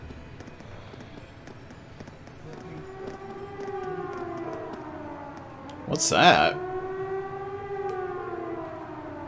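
A rising and falling civil-defense siren wails from a fort in the video game Trails of Cold Steel, a long sustained tone that swells gradually, with footsteps and a brief voice heard alongside.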